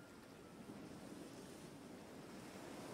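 Ocean waves wash in a steady, broad roar at night, a continuous surf hiss with no distinct breaks or voices.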